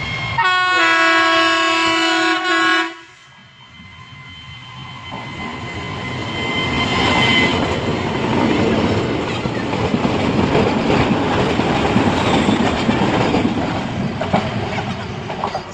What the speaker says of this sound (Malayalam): ട്രെയിൻ വരുന്ന ഒച്ച കേൾക്കുന്നുണ്ട് കേട്ടോ ഗൈസ്. അതാ ഒരു ട്രെയിൻ വരുന്നുണ്ട്, ഇതാ ഒരു ഊട്ടി ട്രെയിൻ വരുന്നുണ്ട്